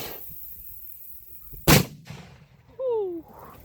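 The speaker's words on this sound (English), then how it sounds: "then we'll just conveniently place the coconut bomb" A coconut bomb firework wedged into a dirt hole outdoors goes off with one sharp, loud blast, followed by a short burst of rising whistling tones and a brief rumble.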